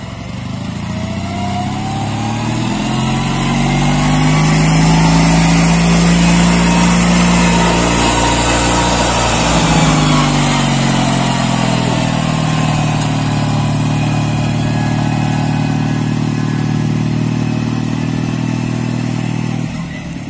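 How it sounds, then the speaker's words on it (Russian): The two-cylinder UD engine of a KMZ T-012 mini tractor fitted with a factory snow blade runs close by, a loud steady chugging drone that rises slightly then holds an even throb for the whole stretch. "Двигатель УД стоит двухцилиндровый. Ну и нормально так тянет."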